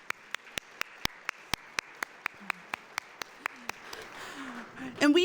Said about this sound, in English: let's give all of our forum sponsors and partners a round of applause